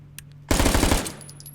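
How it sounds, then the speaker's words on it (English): Swedish armor-piercing Uzi submachine gun fired in the virtual reality game H3VR, a single loud close burst of rapid automatic shots lasting about half a second, then a short tail. "this is the Swedish armor-piercing Uzi"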